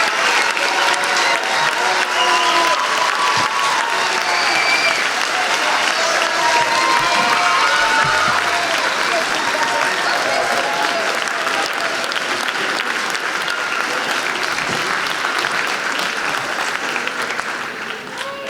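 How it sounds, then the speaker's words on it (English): Audience applause at a 2023 junior high school graduation ceremony, a loud, sustained wash of clapping from a large crowd that holds steady for many seconds, with faint voices mixed in. "Please join me in a round of applause to celebrate the success of the 2023 Westmont Junior High School graduation class."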